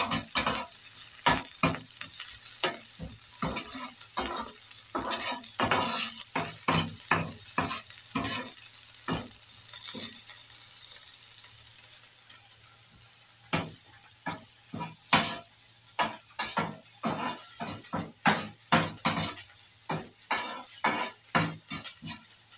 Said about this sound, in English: So I just need very little cooking oil just to burn my onions.